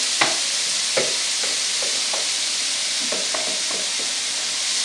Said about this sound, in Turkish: Şimdi havuçlarımızı koyacağız içine. Böyle güzelce burada bir soteleyeceğiz.